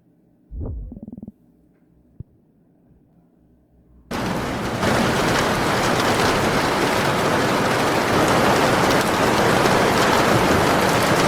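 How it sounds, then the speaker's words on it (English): Steady, dense rain from a rainy video playing on YouTube starts abruptly after a few brief thumps and clicks, then continues loud and even to the end, with no one talking. "open a rainy video on YouTube"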